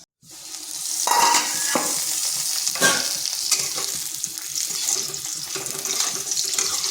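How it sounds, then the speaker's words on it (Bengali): Potato pieces frying in hot oil for a ridge gourd curry give a steady, close sizzle with occasional stirring scrapes, continuous and fairly loud throughout with no talking. "আলুটা এইভাবে ভেজে নিয়েছি"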